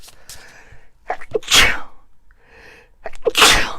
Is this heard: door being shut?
no